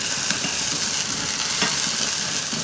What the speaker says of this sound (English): all you want to do is just scrape up a little bit from the bottom of the pan with that little bit of brandy there